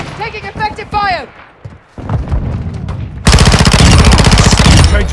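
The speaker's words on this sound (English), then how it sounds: "Enemy fire! Taking effective fire!" Gunfire in the video game Call of Duty: Modern Warfare 2 begins with shouted voices and scattered shots, then turns into a loud, continuous burst of rapid machine-gun fire.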